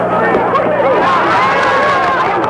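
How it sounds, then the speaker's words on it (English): Boxing crowd at a Muhammad Ali versus Rudi Lubbers bout, a dense steady roar of cheering and babble rising in excitement throughout, loud and continuous with no single voice standing out. "Crowd got excited about the Lubbers left, which clearly hit Ali's right arm."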